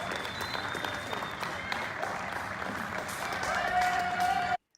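A crowd in Peru claps and cheers at the 8 p.m. curfew, a dense, steady wash of applause heard from a distance that swells toward the end before cutting off abruptly.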